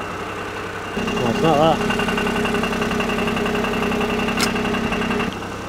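A Smart car's small engine idles steadily with a buzzing, rattling vibration from a loose exhaust layered over it, while a person speaks briefly nearby.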